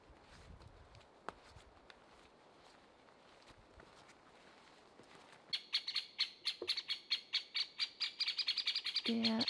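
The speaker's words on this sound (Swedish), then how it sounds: "Det är några hackspettar som är väldigt arga på mig här." In a forest by a lake, after a quiet stretch with faint rustling, woodpeckers burst into loud, agitated calls, a rapid, accelerating series of sharp repeated notes nearby.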